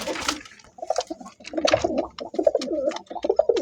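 Pigeons coo in a loft, with repeated soft throaty calls in short bursts, close by, mixed with light fluttering and rustling.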